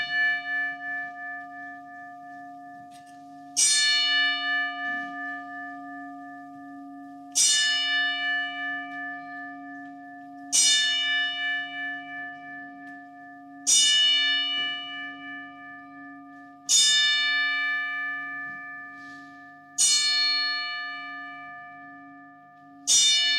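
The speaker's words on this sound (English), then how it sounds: "in respect of the memory of Jim Jones with the final 10 bells" Memorial bell struck ten times at a boxing club home show, the count drawn out in slow, evenly spaced single clangs, each ringing out and fading under a steady hum in an otherwise silent hall.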